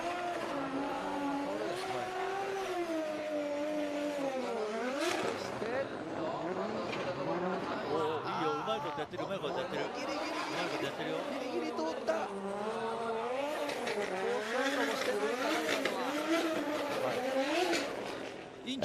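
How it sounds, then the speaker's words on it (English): A Toyota Supra drift car at a wet D1GP round at Okuibuki, its engine revving up and down in wavering sweeps with tire noise, heard at a distance beneath continuous commentary. "Driving the Evangelion Supra. This is the Unit 2 Supra."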